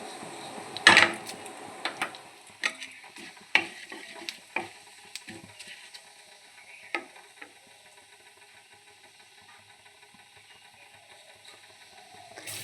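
Cumin seeds and bay leaves dropped into hot oil, giving a brief loud crackling burst near the start, then scattered pops, stirring clinks and a fading sizzle.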